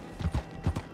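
Horse hooves clip-clopping in the video game Red Dead Online, four close, distinct hoof strikes in two quick pairs.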